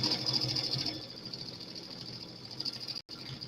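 A home embroidery machine stitches out a quick 433-stitch quilting design on a tumbler quilt block in the hoop, giving a steady, fast mechanical whir that is loud at first, softens slightly and breaks off briefly near the end.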